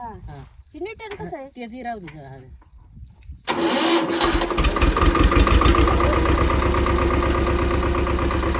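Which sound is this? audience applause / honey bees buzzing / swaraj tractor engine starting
swaraj tractor engine starting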